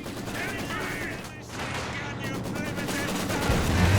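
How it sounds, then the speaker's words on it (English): Machine gun fire in a Company of Heroes 2 battle hums beneath a dense, continuous wash of combat noise, with sustained bursts blending into explosions and ambient battlefield din throughout. "Machine gun spinning around for the Panzer Grenadiers."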